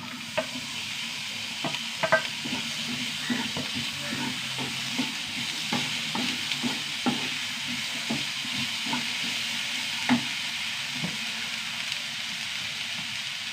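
Spice powders and a large tomato frying in a pan, with a steady sizzle and hiss close by and repeated scrapes and taps of a stirring spoon throughout.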